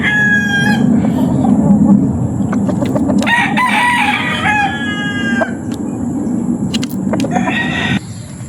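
Several Popeye grey and spangle gamefowl roosters crowing in a game farm yard, long cock-a-doodle-doo calls overlapping near and farther off, with clucks over a steady low background rumble.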